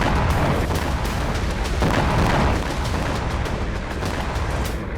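Explosions and artillery fire along the Lebanon border, a dense, continuous rumble of booms and crackling blasts that stays loud and heavy for the whole stretch, with no voices.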